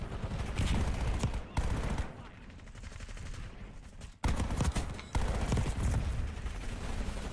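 Sustained bursts of rapid automatic gunfire from a Call of Duty Black Ops 6 match, loud and dense throughout with brief gaps, and a voice faintly mixed in.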